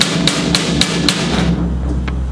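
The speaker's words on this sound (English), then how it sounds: "you can take a hammer and smack it a little" A hammer smacking the center of a tempered car side-window pane: about five sharp, evenly spaced taps, close and fairly loud, then a couple of fainter knocks over steady low rumble.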